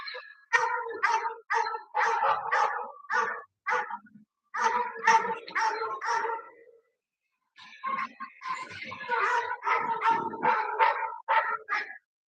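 A dog barks in repeated bursts with some yips and whimpers, heard from a recording played back in a town council meeting, with a short pause partway through.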